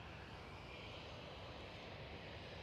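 A jet airliner at Schiphol airport makes a low, distant engine rumble, steady and faint, with no talking.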